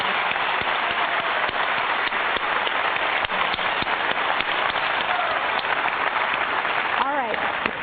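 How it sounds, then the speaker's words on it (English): Dense, continuous clapping from a large audience at a talk, an even patter of many hands that runs unbroken throughout, with a voice briefly audible near the end. "let's just give him another round of applause"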